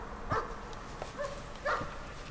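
Dog barks in the horror video game Layers of Fear, three short barks spaced across a couple of seconds, moderately close over a dim ambient background.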